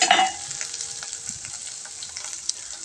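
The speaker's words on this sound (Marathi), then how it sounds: "आणि छान असं परतून घ्यायचं आहे आपल्याला बटाटे तेलामध्ये" Potatoes fry in oil with coriander, a bright hissing sizzle that swells briefly at the start and then settles into a quieter crackle with scattered stirring taps.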